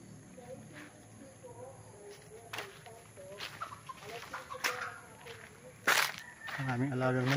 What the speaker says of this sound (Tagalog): Ang aming alagang manok.